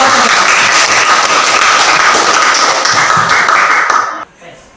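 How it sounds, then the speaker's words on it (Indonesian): Dense, loud audience applause fills a classroom-style gathering, continuous clapping that holds steady for several seconds before dropping off abruptly near the end. "kita berikan aplaus"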